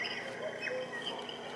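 Steady hissy ambience with scattered high chirps and bird calls, a looping tropical forest soundscape from a Conair Sound Therapy SU4C clock radio noise machine, no talking.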